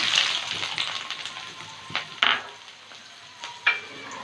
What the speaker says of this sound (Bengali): কড়াইতে সর্ষের তেল গরম করে নিয়েছি দুটো বড় সাইজের পেঁয়াজ কুচি দিলাম